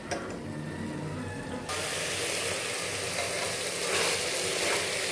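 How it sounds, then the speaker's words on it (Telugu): Mutton frying in a pan with turmeric and salt, a soft sizzle that suddenly swells into a loud, continuous hiss of frying for most of the clip. "మటన్ బాగా వేగాలి."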